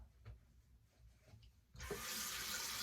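Cold well water from Central Texas gushes from a bathroom tap, starting abruptly after a quiet moment with faint handling sounds, then running as a loud, steady rush.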